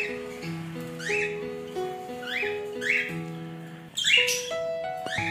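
A pair of cockatiels, male and female, give repeated sharp squawks and rising whistled calls at close range. Between the calls, a sequence of steady tonal notes plays in the background.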